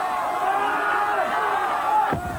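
Crowd at a 1999 Britain's Strongest Man competition, an Irish spectator cheering on a Scottish competitor, with continuous roaring voices and shouts layered thickly and loudly throughout, swelling slightly near the end.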